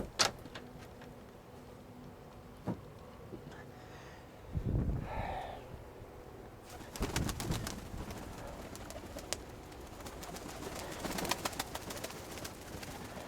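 Soft pigeon coos come in a few low bursts amid quiet rustling and occasional taps, fairly close and otherwise calm.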